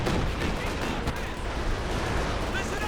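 Dense, continuous rumble of a Katyusha rocket artillery barrage in Company of Heroes 2, with overlapping blasts and crackle filling the battlefield for the whole stretch, loud and unbroken.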